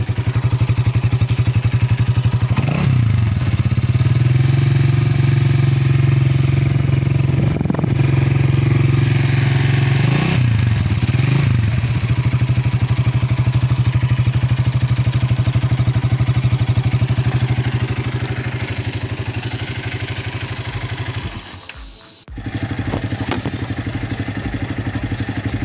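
An IGM 170 cafe racer motorcycle engine runs steadily at idle for a long stretch, close and loud, with a constant low throb, a few brief blips and a short cut-out near the end before it settles again.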